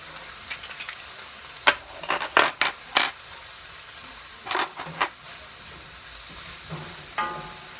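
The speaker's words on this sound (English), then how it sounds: "So I'm just sweating these vegetables a little bit, sauteing my vegetables." A utensil stirs vegetables sautéing in a pan for sausage and shrimp creole. Sharp scrapes and clinks come in small clusters over a quiet, low sizzle.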